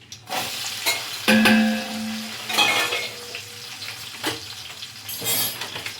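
Chopped onions fry with shahi jeera for a biryani, giving a steady close sizzle broken by bursts of stirring and a few light clinks of a utensil against the pan.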